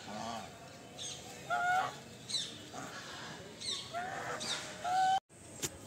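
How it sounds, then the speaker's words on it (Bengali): White geese in a zoo enclosure honk repeatedly, several loud nasal calls from a flock at close range, irregular and overlapping, over outdoor background noise. "এবারে আমি তোমাদের দেখাই হোয়াইট রাজহাঁস, সাদা কালারের যে রাজহাঁসগুলো হয়, দেখো কি বড় বড়।"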